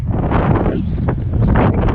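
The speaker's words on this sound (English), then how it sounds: "Oh, that is really windy." Strong wind roars and buffets continuously at a building site, a dense low rumble with gusty surges throughout.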